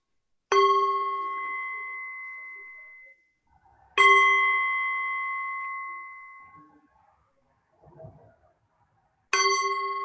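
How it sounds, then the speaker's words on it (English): Three clear strikes of a bell, each ringing out and slowly decaying over a few seconds in a quiet room, with a brief soft rustle between the second and third. "I'm going to ring the bell."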